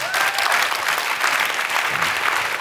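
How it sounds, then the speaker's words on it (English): A crowd's steady, dense round of applause fills the room, loud and sustained throughout with no pause, a few voices faintly blended in. "I think that deserves a big round of applause."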